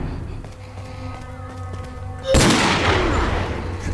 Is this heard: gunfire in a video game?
yes